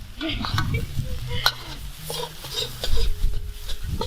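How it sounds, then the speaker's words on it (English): Instant noodles are stir-fried in a wok, with close sizzling and frying under repeated scraping and stirring clatter, and a brief faint squeal partway through. "When it's halfway cooked, you toss in your noodles."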